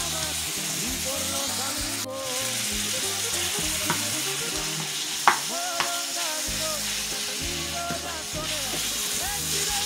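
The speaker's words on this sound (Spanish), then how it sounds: "lo vamos a seguir moviendo hasta que se cocine bien la carne" Ground beef sizzles and crackles steadily in a hot pan as it is stirred for Taco Bell-style tacos, with occasional utensil scrapes and a faint voice in the background.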